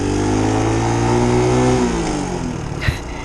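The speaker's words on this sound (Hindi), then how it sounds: "देखा, एक्सीलेटर की आवाज़ आ रही है ना आपको बार बार।" A close motorcycle engine revs up, its pitch climbing then dropping off, followed by a short clatter.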